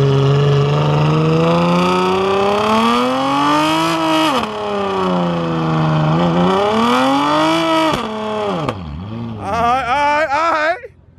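A street-racing car revs hard and accelerates in a long loud pull, the engine note climbing and dropping in several surges, then fading as it pulls away, with people talking nearby.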